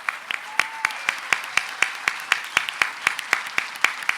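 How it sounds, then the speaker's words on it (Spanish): A small audience gives a final round of applause for a professor after a keynote lecture at a book fair. Sparse, fairly steady individual claps ring out at a moderate pace from a few hands rather than a dense crowd. "les pido por favor el último aplauso para el profesor Gabriel"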